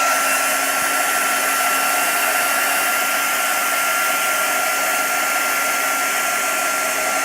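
A hair dryer blasts a wet surface with a loud, steady, unbroken rushing whir and a faint motor whine. It runs close and alone the whole time, with no talking.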